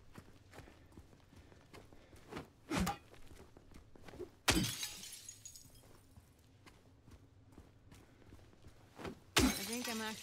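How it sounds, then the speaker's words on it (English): Objects smashed in the video game Silent Hill 2, with a few sharp, loud crashes and shattering bursts separated by quieter stretches of faint ticking and footsteps. "I'm actually getting used to you smashing stuff up."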